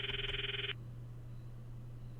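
A phone rings in the Steins;Gate visual novel: one short electronic trilling burst that cuts off abruptly, leaving a low steady hum behind.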